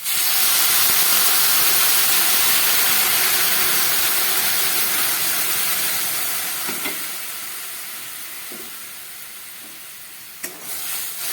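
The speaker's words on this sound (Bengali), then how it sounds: "এবার আমি এর মধ্যে দিয়ে দিচ্ছি উষ্ণ গরম জল" Warm water goes into fried, sizzling spice masala for a fish curry, a loud hiss and steamy sizzle that slowly fades as it settles, with a few clinks of a spoon near the end.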